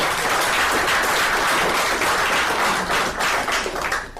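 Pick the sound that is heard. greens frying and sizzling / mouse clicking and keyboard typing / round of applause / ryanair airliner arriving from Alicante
round of applause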